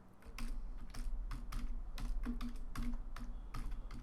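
Quick, steady keystrokes typing a Java class name on a computer keyboard in Android Studio, a close run of sharp clicks over a low hum.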